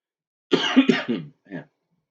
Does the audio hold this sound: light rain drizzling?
no